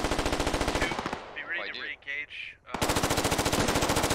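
Assault rifles fire in rapid automatic bursts in the Squad military video game, with loud, fast, evenly spaced shots, a brief gap filled with other combat noise, then another sustained burst.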